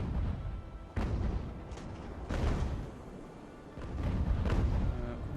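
Naval cannon fire rolls across an Age of Sail sea battle, several deep booming shots at irregular intervals, some near and heavy, others duller and more distant, over a constant low rumble.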